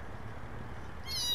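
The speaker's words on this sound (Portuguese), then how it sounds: "Caramba, tem um gato por aqui." A cat meows in a video game, a single clear high-pitched meow arriving late over a steady low background hum.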